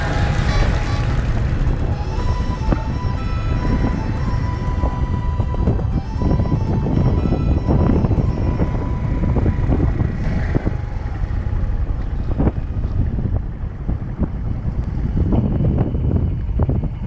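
Strong wind at Cape Soya, Hokkaido's northernmost point, roars continuously and loudly across the microphone in a steady low rumble with gusty buffeting.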